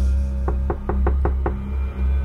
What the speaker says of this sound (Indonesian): aku dikagetkan kembali ketika ada yang mengetuk pintu kamarku lagi